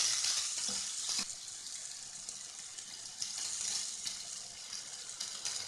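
Tomato masala in a pan being stirred after a few spoonfuls of water are added, with a steady wet sizzle and soft scraping throughout, close and fairly quiet, no talking.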